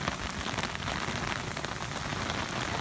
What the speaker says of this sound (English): Absolutely torrential rainfall.